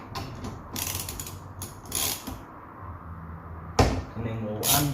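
A ratchet clicks in quick bursts while undoing roughly 12 mm bolts during a sport earth kit install on a Suzuki Swift ZC31S, with metallic ratcheting rattles close to the microphone between quieter pauses.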